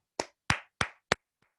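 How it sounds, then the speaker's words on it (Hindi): Four sharp, separate hand claps from a participant in an online training session, close and isolated, followed by a faint fifth tap, with no talking. "मैं चाहता हूं एक जोरदार तालियां उनके नाम"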